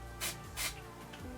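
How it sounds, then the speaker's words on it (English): Two short hissing sprays from a hairspray can, close up, separated by a brief pause, with faint handling noise in between. "I just like to spray it"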